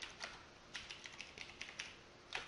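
Rapid, uneven keystrokes on a computer keyboard, close and fairly quiet, with short bursts of clicks and brief pauses between them.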